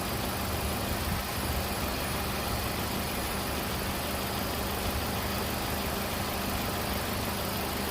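A 2010 Mazda3 1.6 V sedan with a 1,600 cc engine idles, a steady, smooth, even hum with broadband noise and no revving or voices, constant from start to finish.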